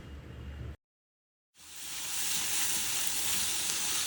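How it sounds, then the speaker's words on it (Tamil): Chicken and egg frying together for chicken fried rice, a steady bright sizzle close by that cuts out briefly and then returns louder and continuous, with no talking. "ஸோ அதுக்காக நம்ம அதை நல்லா மிக்ஸ் பண்ணிகிட்டே இருக்கலாம். சிக்கன் நல்லா குக் ஆகணும்."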